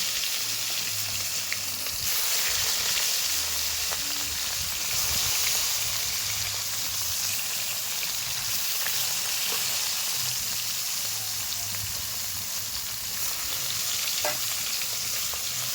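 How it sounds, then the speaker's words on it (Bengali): Pieces of rohu fish coated in salt and turmeric fry in hot oil in a wok, giving a loud, dense and unbroken crackling sizzle from start to finish. "এবার আমি কড়াইয়ের মধ্যে তেল গরম করে নিয়েছি এবার একে একে মাছগুলো লাল করে ভেজে নেবো"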